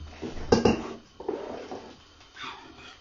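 Oats are mixed in a bowl, with a few soft clinks and scraping knocks of a utensil against the dish, quiet and close, in short irregular bursts.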